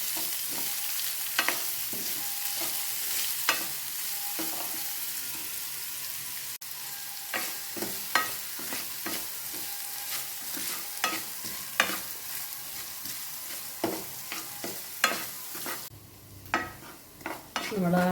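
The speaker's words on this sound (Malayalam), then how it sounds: "നമ്മുടെ സവാള അരിഞ്ഞതും ചെറുതായി അരിഞ്ഞതും വെളുത്തുള്ളിയും പച്ചമുളകും എല്ലാം ഇട്ട് നമുക്കൊന്ന് വഴറ്റിയെടുക്കാം." Chopped onion, garlic and green chilli sauté in a pan, a constant close sizzle punctuated by frequent sharp spoon clicks and scrapes against the metal, the frying dropping away briefly near the end.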